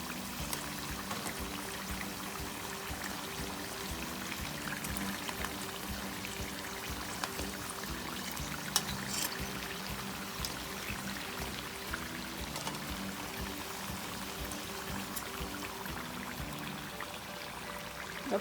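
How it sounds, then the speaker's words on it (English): Samosas deep-fry in hot oil until golden brown, giving a continuous, even sizzle and crackle with no pauses. It sounds close but fairly soft and runs alone, with no talking. "Okay, we're just gonna fry this until it's golden brown and we're set."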